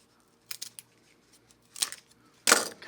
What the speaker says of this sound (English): I'm going to snip that off.